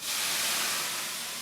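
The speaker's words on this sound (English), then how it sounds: "We need a little more steam here." Steam hisses in a steady, loud, broad rush that starts abruptly and holds for over a second, easing slightly at the end, with no voices over it.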